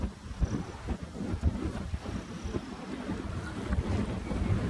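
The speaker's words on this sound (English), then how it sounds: "Got a boat coming in, just a little speck you'll be able to see out there." Motorboat out on the water of a bay at sunrise, heard as a low rumbling drone mixed with gusty wind buffeting the microphone and soft lapping water, fairly distant and steady with no voices.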